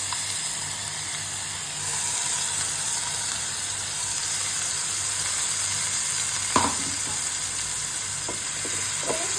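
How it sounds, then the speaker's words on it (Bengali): Whole cumin with crushed onion, garlic and green chili paste sizzles steadily in a hot wok, a continuous close hiss broken once by a brief sharp scrape of stirring. "এখন আমি কড়াই দিয়ে দেব জিরে, গোটা জিরে এবং বেটে রাখা বা ক্র্যাশ করে রাখা পেঁয়াজ, রসুন আর কাঁচা লঙ্কা বাটা"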